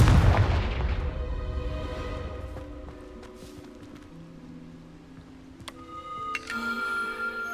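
A fiery Confringo blasting spell in the Hogwarts Legacy video game bursts with a loud, rumbling boom at the start. It fades into quieter game ambience, with a few bright chime-like tones near the end.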